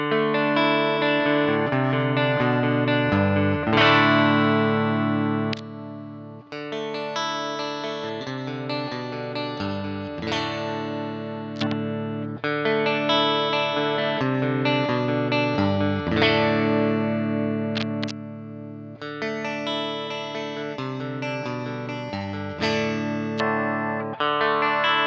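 Music Man Sterling Albert Lee electric guitar played through effects such as distortion and chorus, a full, sustained strummed and picked passage heard loud and alone for the whole stretch with brief dips between phrases.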